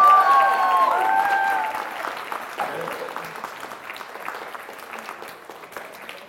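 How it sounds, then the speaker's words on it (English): An audience at a library event gives a big round of applause: dense clapping that is loudest at the start and tapers gradually toward the end, with a few voices and bright tones over the opening seconds. "I think we should give Matthew Bazemore, Philip Savage, and Janie Garland another big round of applause."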